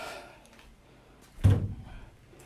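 A right-hand door on a 1950 MG being rebuilt closes with a single soft, low thud amid a quiet workshop.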